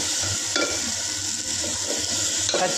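A spice mix of pepper, cumin and dried red chilli fries in a pan, giving a loud, steady sizzling hiss with a few soft stirring scrapes, close up and without talk.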